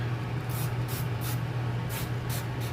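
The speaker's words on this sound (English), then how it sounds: "spraying everything down with rubbing alcohol" Rubbing alcohol spritzed from a spray bottle while cleaning a small work area for mushroom growing, several short hissing bursts, close and fairly loud, over a steady low hum.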